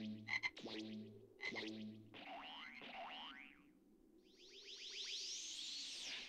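A cartoonish frog croaks in the Dragon Ball Xenoverse 2 video game after Ginyu ends up as a frog. Two close, throaty croaks come first, followed by springy, boing-like sweeping chirps, all clear and alone.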